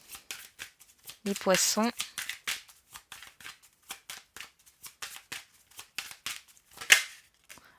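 Tarot cards are shuffled in a quick riffling burst, then drawn and laid down in soft flicks beneath steady French talk that runs throughout.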